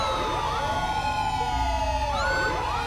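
A fire engine siren in the video game GTA 5 wails loudly with overlapping rising and falling tones, close and alone with no talk.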